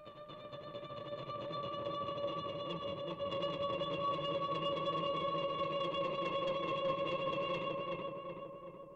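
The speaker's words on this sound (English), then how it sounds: "using trusty old guitar rig with a screamer pedal and a tractor delay." Coin-scraped electric guitar runs through a screamer overdrive pedal and a tractor delay in Guitar Rig, giving a sustained, gritty, ringing wash with echo tails. It holds steady for about nine seconds and fades slightly at the end, with no voice.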